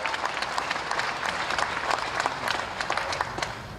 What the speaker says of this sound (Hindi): जोर से ताली बजा के स्वागत करो